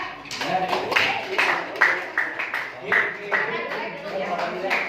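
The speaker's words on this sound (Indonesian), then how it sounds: "Tepuk tangan untuk kelompok 3." Classmates in a classroom clap in short, rhythmic bursts for a student group, close and fairly loud, with voices chattering between and over the claps.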